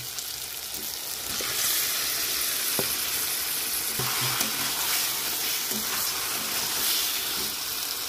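Chicken pieces go into a pan of spice masala already frying in released oil for a Bengali chal chicken curry, giving a steady, loud, dense sizzle with occasional stirring scrapes throughout, no talking.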